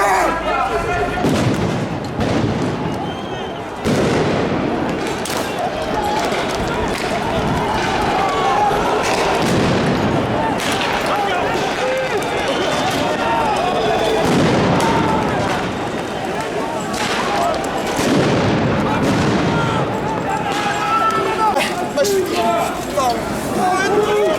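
A dispersion grenade explodes at a Yellow Vests street protest, its sharp blasts landing amid a constant loud roar of crowd noise and shouting that never lets up.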